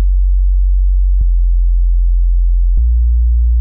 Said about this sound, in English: And there's like a sub bass.